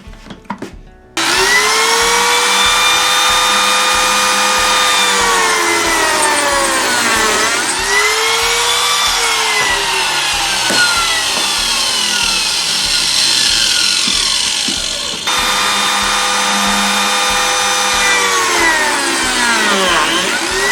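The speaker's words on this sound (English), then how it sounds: "Cut this one. This is going to be a hard one to cut." A hard, clamped piece of wood is cut with a saw in one loud, continuous whine lasting about twenty seconds, dipping in pitch as the blade loads up, heard alone.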